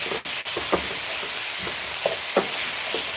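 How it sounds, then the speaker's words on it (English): Korean sweet and spicy chicken dalkgalbi stir-frying in a pan gives a steady, close sizzling hiss, broken by a few short scraping knocks from stirring, with no voices. "so now we'll start the stir frying process."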